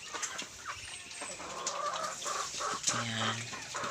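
Pet ducks on a farm make clucking, fowl-like calls over a busy barnyard background, with a louder, sustained honking call toward the end and no talking.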